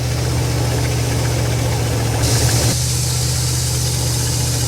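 A 1977 Dodge motor home engine runs steadily while driving at about 30 mph, a loud, constant low drone with vibration and faint knocking, no talk.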